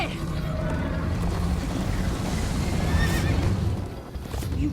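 A horse neighs and gallops in the game Minecraft Story Mode, hooves pounding steadily under a loud, dense chase soundscape with a whinny rising briefly near the middle.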